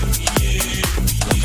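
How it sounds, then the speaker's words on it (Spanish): Metal pots are banged loudly in a fast, irregular rhythm at a cacerolazo street protest. Sharp clanging hits ring over dense background noise. "Los cacerolazos."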